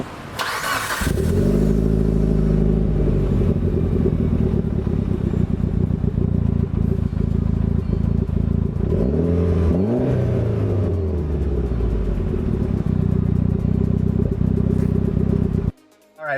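A 2006 Mitsubishi Evo 9 SE with a 302-horsepower engine starts up and idles loudly close by, then revs up and down in a sweeping rise and fall before cutting off.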